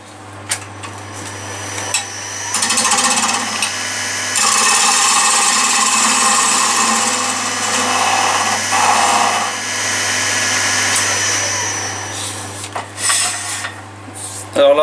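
A power tool surfaces the face of an oak block for a pen holder, a loud, close, continuous grinding whir lasting about ten seconds with slight changes in pitch as it cuts, then trailing off.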